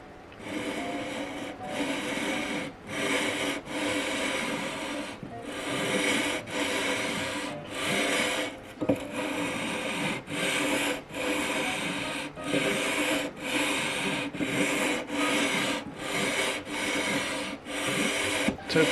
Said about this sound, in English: So the first few strokes with the sanding beam.